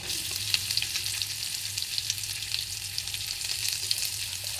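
Onions frying in a pan for sevuroti fry, a steady close sizzle with small crackling pops and occasional stirring, no voices.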